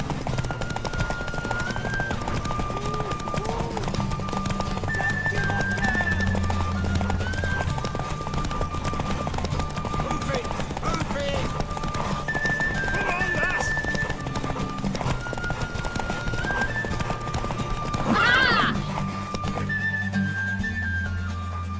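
A horse race in The Witcher 3, with rapid galloping hoofbeats drumming steadily throughout and a loud neigh near the end, under music and intermittent talking voices.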